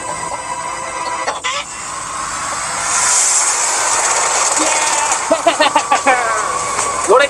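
A freshly caught chicken clucks in short, close, repeated bursts toward the end, over a steady outdoor wash of background noise with people talking around it.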